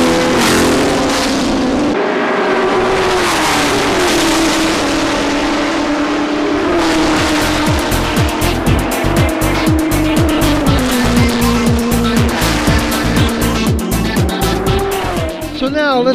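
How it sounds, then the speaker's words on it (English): Vintage Ford GT40 race cars roar and whine on a road course at the start of a race, engines shifting pitch loudly as the field runs strung out, with tires squealing and a commentator talking over the noise. "Cars are a little strung out, but that's expected in a vintage car race."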